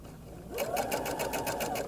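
A sewing machine stitching a 3/8 inch seam on a sleeve of a shirred top, its needle starting up and running in a quick, even mechanical rhythm, close and clear.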